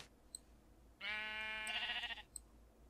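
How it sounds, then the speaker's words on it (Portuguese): A sheep bleats once in the Minecraft video game, a single drawn-out wavering bleat lasting about a second, clear over faint background game ambience. "Nossa, a ovelhinha tá bugada."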